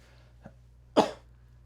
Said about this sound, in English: Sorry to cough in your face